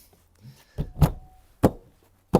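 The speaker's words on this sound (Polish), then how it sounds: "Dociągają nam drzwi garażowe." A few sharp, solid knocks and thuds spaced out over a couple of seconds as a camper's garage door is pulled and latched shut, with quiet gaps between.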